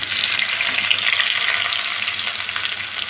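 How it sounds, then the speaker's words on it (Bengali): Pointed gourd (potol) fries in hot mustard oil in a kadai, giving a loud, close, unbroken sizzle that holds steady throughout with no talking. "এখন আমি পটলগুলো ভেজে নিব।"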